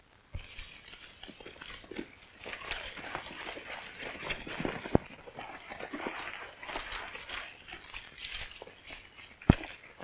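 Horses' hooves clip-clop in a rocky Western setting, a steady, busy patter of hoofbeats and shuffling steps at moderate distance, with a couple of sharp knocks and no talk.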